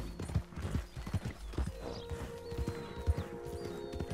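Horse hooves clip-clop at a steady walking rhythm in Red Dead Redemption 2 as a tired horse is ridden along, the footfalls moderately close over a low ambient bed with faint tonal game sounds.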